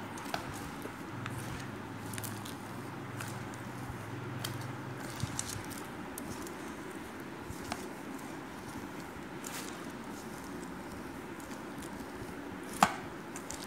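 Boiled peas for munthakinda pappu, Kakinada style, being kneaded and mixed by hand in a bowl, giving soft irregular pats and squelchy taps, quiet and close, with a sharper knock near the end.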